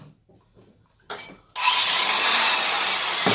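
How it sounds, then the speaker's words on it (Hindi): A simple electric drill machine without a hammer function, in a welding workshop, starts up with a click and then runs continuously, a loud, steady whirring drone that fills the rest of the moment. "दूसरा एक ड्रिल मशीन है, ये सिंपल है, ये हैमर नहीं करता है, ये सिर्फ ड्रिलिंग का काम करने के लिए इस्तेमाल किया जाता है।"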